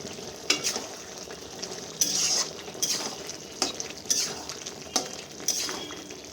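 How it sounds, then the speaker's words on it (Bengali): Cauliflower and potato curry stirred in a pan with garam masala and ghee, giving a steady low sizzle broken by repeated scraping stirs every half second or so, close and moderately loud with no talking. "এরপর আমি এখানে গরম মশলা আর ঘি ছড়িয়ে এটাকে মিক্স করে নেবো ভালো করে"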